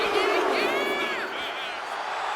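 Crowd cheering fills an arena in the WWE 2K25 wrestling game as a wrestler hypes up the audience, a steady wash of shouts and whoops heard faintly at low volume.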